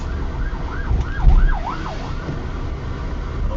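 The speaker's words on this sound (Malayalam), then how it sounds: "ആംബുലൻസ്." An ambulance siren wails up and down on a road with loud traffic rumble, its rising and falling tone clear for a couple of seconds before fading into the engine noise.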